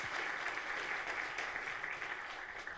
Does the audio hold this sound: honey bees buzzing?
no